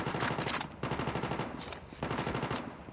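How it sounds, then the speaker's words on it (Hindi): Automatic weapon bursts in Call of Duty Mobile, three rapid sustained strings of gunfire, loud and near with short gaps between. "फायरिंग हो रही थी सामने"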